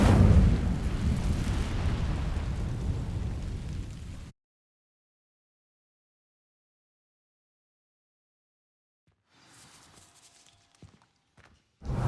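A fire spell sets dry vines ablaze in Hogwarts Legacy, a loud rumbling burst of flame for about four seconds, followed by near silence and faint crackles and shuffling.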